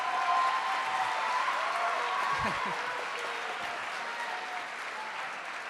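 Audience at a middle and high school concert applauds steadily in a dense, sustained wash of clapping that fades slightly toward the end, with a brief voice underneath.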